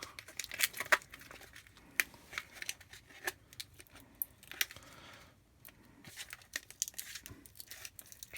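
Thin plastic coating being pried and peeled off 18650 battery cells, giving soft tearing, crinkling and scattered sharp clicks at close range in a quiet room.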